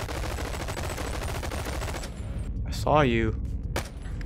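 Gunshots from a gun in the video game BoneLab: a dense, fast run of shots fills the first two seconds, then someone speaks briefly, with one more sharp crack near the end.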